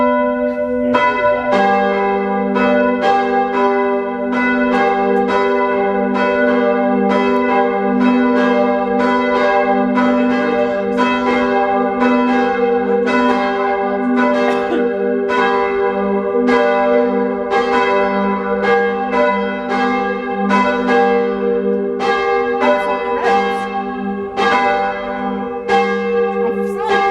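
Church bells of the Crooked Spire in Chesterfield peal continuously, struck in a steady, overlapping sequence with rich ringing tones that sustain throughout, loud and close.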